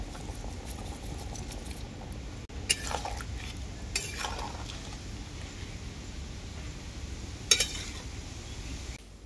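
Paneer and fried cauliflower go into a simmering turmeric curry in a pan, giving a steady low bubbling simmer with a few brief clinks and splashes as the pieces drop in; no talking.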